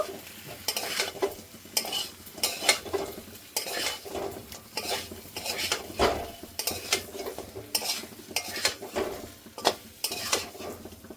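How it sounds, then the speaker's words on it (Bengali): Chicken pieces, potatoes and spice paste stirred together in a cooking pot for a chicken curry, with repeated scraping and clanking of a spoon against the metal and a soft sizzle underneath, steady and close throughout. "এবার মাংস, আলু আর মশলা সুন্দর করে মিশিয়ে নেব।"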